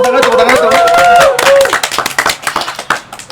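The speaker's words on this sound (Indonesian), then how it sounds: "Tepuk tangan." Applause opening a podcast episode, a voice and tones at first giving way to a burst of scattered hand claps close to the microphone.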